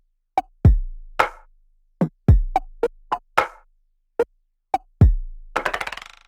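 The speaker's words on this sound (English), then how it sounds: "For the drums, I have this loop that I made using different samples." Self-made drum loop built from assorted samples: a sequence of sharp percussive hits, clicks and booming low kicks in a syncopated pattern, ending in a quick stuttering roll, loud and dry with no voices.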